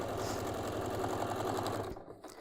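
A sewing machine runs in one close, continuous rapid whir as quilt block pieces are sewn together for a bear paw block, stopping abruptly near the end.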